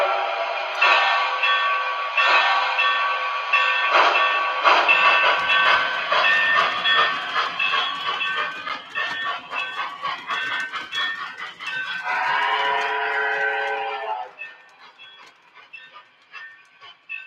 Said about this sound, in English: let's get these trains rocking here